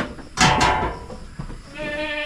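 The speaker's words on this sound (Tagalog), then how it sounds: "Update po tayo sa ating mga kambing dito na nagkasakit" A pair of sharp goat bleats ring out close by on a farm where the goats are recovering from orf, followed by a thinner, wavering cry.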